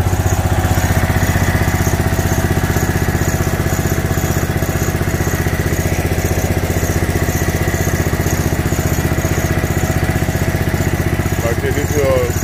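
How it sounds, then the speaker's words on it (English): A 16-year-old Snapper Pro lawn mower engine runs steadily and close by, a loud, even drone with a rapid regular firing pulse and light mechanical clatter, holding constant throughout. "this right here, a 16-year-old lawnmower, Snapper Pro"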